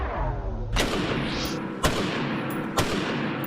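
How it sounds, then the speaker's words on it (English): Loud AR-15 rifle shots fired at a Tulsa range, three sharp cracks spaced about a second apart, each ringing out against steady background noise. "I fired an AR-15 and more"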